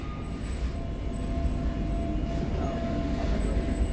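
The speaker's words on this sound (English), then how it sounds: "There's the metro as we pull into Park Lane." Tyne and Wear Metro train pulling into Park Lane station, a steady loud rumble of wheels and carriage noise with a thin high whine running throughout.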